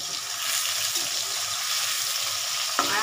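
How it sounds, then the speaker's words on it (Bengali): Potatoes fry in a pan with a paste of sesame and poppy seeds, giving a steady, bright sizzle close by, with a faint knock near the end and no talking. "আলুগুলো একটু নেড়ে দিই, হালকা ভাজা ভাজা ব্রাউনিশ হবে।"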